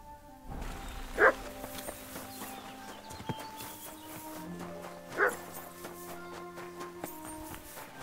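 A dog in Kingdom Come: Deliverance II gives two short, sharp barks several seconds apart, moderately close, over a game soundscape with horse hooves, footsteps and low ambient tones.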